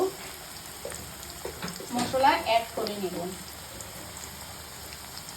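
Sliced onions frying in a pan give a steady, quiet sizzle throughout, while a person speaks briefly in the middle.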